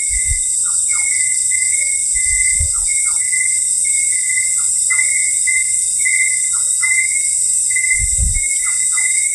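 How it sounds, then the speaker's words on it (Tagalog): Birds in a forest call repeatedly in short, sharp whistled notes over a constant high insect drone, with a few low thumps nearby and no talking. "Kanina pa yan, siguro ibon."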